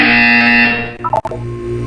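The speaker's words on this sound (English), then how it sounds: "You will hear a buzzer. When you hear the buzzer, look up at the ceiling." A loud harsh buzzer sounds in the Portal 2 video game, a single sustained electronic drone that cuts off abruptly with a brief stuttering glitch before fading.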